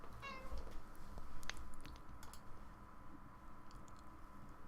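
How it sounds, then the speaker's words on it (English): A house cat meows near a microphone, a short rising call early on followed by a couple of faint softer sounds over a low steady room hum. "And we have a visit by my cat."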